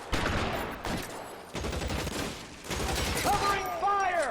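Rapid bursts of gunfire in the video game L.A. Noire, dense crackling volleys with short gaps between them and a voice shouting over the shooting near the end.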